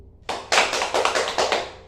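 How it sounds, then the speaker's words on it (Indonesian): Classroom applause for a student, a short burst of fairly close hand claps starting abruptly and pulsing in quick uneven waves before fading, with no talking. "Tepuk tangan untuk Loli."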